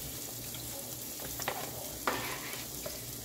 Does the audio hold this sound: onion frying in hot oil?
yes